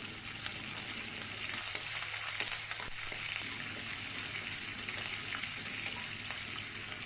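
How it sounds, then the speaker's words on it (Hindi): Urad dal, asafoetida, curry leaves and finely chopped green chilli fry in hot oil with a steady, even sizzle and a few soft stirring scrapes, close and fairly faint. "1 टेबलस्पून उड़द, थोड़ा सा हींग, 10 से 12 करी पत्ते, 1 बारीक कटी हुई हरी मिर्च।"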